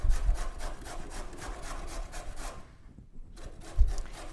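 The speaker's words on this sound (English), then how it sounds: "I'm going to grate up about 4 cups of organic carrots." Organic carrots grated by hand into a mason jar, giving steady rhythmic rasping strokes close up, a brief pause near the end, then a heavier scrape.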